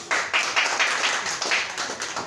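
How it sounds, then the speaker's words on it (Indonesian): An audience at a neighbourhood RT ceremony claps, a moderately loud patter of hands with a few stronger bursts of clapping. "Tepuk tangan."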